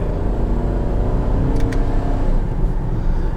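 Engine of a 2012 Chevrolet Camaro 2SS automatic, a steady loud low rumble heard from inside the car, with no talking.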